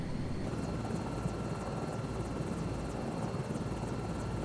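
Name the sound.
helicopter in video game Microsoft Flight Simulator 2024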